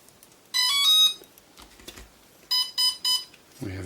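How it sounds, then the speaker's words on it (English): A Typhoon H drone powering up after a mainboard replacement for water damage gives short electronic beep tones from its motors, a bright group followed by three quick beeps, close and clean with a small knock at the end. "We have a beeping"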